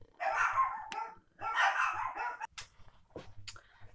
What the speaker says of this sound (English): Sorry for that, I had to go shut up my dogs.